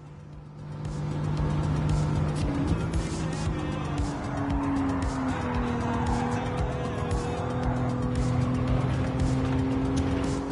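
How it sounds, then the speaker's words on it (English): Minivans drifting around the Monza circuit in a racing video game, with a steady engine drone, shifting tones and repeated tire squeal and skidding throughout, loud and continuous. "Just drifting some minivans around Monza."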